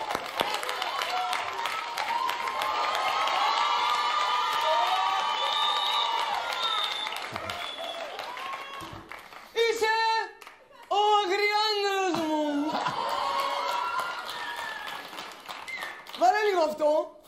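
A Greek television studio audience claps and cheers in a sustained burst, then falls quiet while a host speaks and laughter rises, with brief further cheering near the end.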